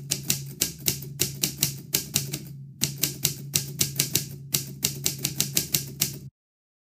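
Quick, uneven bursts of keystrokes as a password is typed on a Nextbook laptop keyboard, close and crisp, with two brief pauses and a low steady hum underneath.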